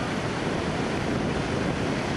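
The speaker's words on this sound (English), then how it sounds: "A bunch of waves breaking out there." Ocean waves break along the beach in a steady, loud wash of surf that fills the whole stretch without pause, with no voices.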